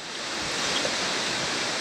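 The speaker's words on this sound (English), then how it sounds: "This is some waterfall." A small rainforest waterfall near the Arenal hanging bridges in La Fortuna, Costa Rica, gives a steady, broad rush of falling water, moderately close and continuous for a brief moment with no voices.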